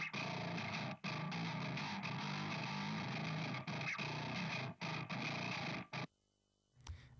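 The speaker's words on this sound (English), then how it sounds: "And this distorted bass channel sounds something like this now." Distorted bass guitar channel from a metal mix, dense gritty tone with mid-range grind played continuously, a few brief gaps near the end before stopping.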